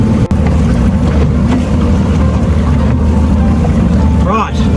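Fishing boat motoring at about 5 to 8 knots while trolling two lures off the Whitsunday Islands, a loud steady low engine drone with wind buffeting the microphone and a voice talking over it.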